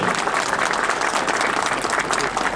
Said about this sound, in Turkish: Kendisine kocaman bir alkış istiyorum